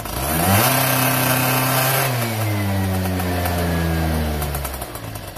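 MBK Booster scooter engine, fitted with a Doppler S3R exhaust setup and running too rich, revs hard and close, pitch rising then holding and wavering in a loud, sustained buzzing whine before easing off near the end.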